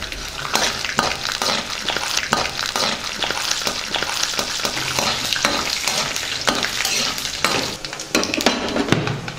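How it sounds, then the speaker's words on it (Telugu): Mustard seeds and black gram, green gram and chana dal frying in a pan while a spoon stirs them, giving rhythmic scraping strokes over a constant loud sizzle, close up and without talk. "దీన్ని బాగా కలుపుకుందాం."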